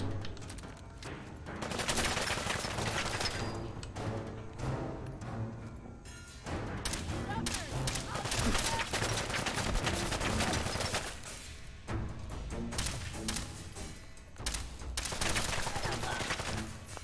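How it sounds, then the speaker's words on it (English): A combat rifle firing in the video game Fallout 4, its shots cracking out in dense, repeated bursts that stop and restart every few seconds, sharp and close over a busy background of game noise, fairly quiet overall. "Looks like she's using a combat rifle."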